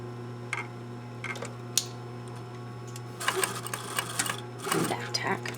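A sewing machine stitches a gusset with a back tack, giving quick bursts of rapid mechanical stitching after a quiet stretch with a steady low hum and scattered clicks.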